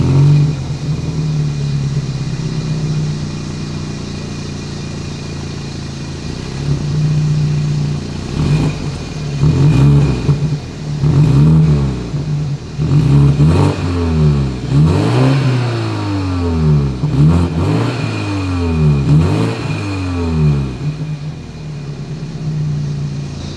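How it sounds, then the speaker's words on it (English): A 2021 BMW X3 SUV engine idles with a deep exhaust rumble, then revs up repeatedly in sharp bursts, each rev rising and falling away, loud and close. "As always, here is that exhaust clip."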